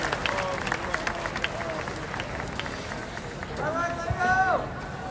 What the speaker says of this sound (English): Another round of applause, please, for the Westminster College Titan Marching Band